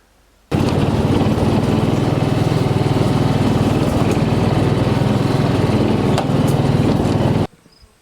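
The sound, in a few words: small chainsaw cutting wood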